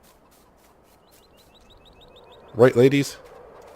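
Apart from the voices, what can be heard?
chickens clucking in a coop, Farming Simulator 19 video game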